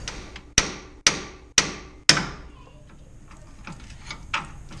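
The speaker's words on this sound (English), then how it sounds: "you just want to keep hammering it in with a pretty heavy hammer like a 3-pound sledge" Four heavy, evenly spaced blows from a 3-pound sledgehammer driving in a ball joint on a first-generation Nissan Xterra ring out close by, each decaying quickly, followed by quieter shop noise.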